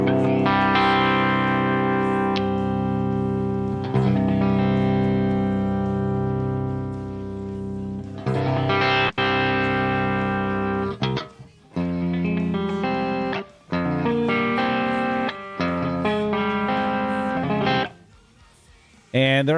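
Electric guitar on the clean channel of the Softube Amp Room amp simulator, set calm, ringing sustained chords and picked notes with echo and chorus-like shimmer, close and clear, brief pauses near the end.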